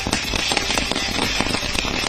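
Diwali firecrackers burst in rapid, dense crackling pops at a residence in Chennai, loud and continuous with no voices.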